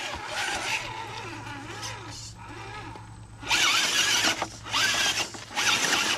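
A Toyota Hilux off-road vehicle without rear steer crawls up a steep bonus line, its engine revving in loud surging bursts with scrabbling tyres, first under a voice and then mostly alone.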